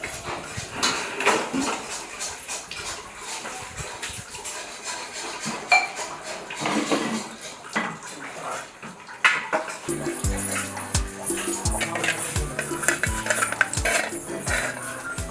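Dishes, pots and pans clatter and scrape during washing, with cutlery clinks and running water throughout; rhythmic metallic knocking joins in the second half.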